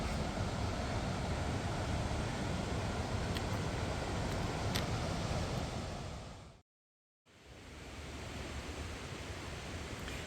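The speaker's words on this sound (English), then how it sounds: "This is Agnes Creek." Agnes Creek rushing along the Pacific Crest Trail, a steady broad roar of flowing water that fills the whole scene, cut by a brief total silence partway through, with no voices.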